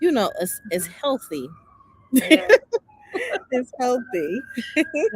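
Emergency sirens wail in the background with a long sustained tone, mostly masked by a conversation between two people talking close by.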